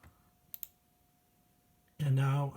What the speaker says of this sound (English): I'm just going to right mouse click